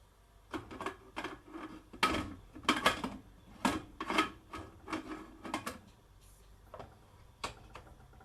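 Lid fitted onto a 10-pound pressure cooker holding beef stew, a series of close metallic scrapes and clunks as it is worked into place, moderately loud and uneven.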